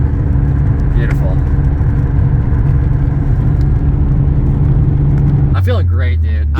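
A 250,000-mile BMW E36 M3, freshly repaired with a new VANOS unit, drives under its own power, its engine humming steadily with road noise, then dropping to a lower, rougher tone near the end as people talk in the background.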